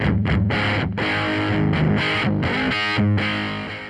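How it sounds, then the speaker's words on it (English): Electric guitar with overdrive through a Source Audio pedal set to a very short single-repeat delay, fully wet, giving thick distorted chords with a slight doubled edge, loud and close with no talk. "I'm going to use a very short delay, and I'm going to have the blend set all the way wet"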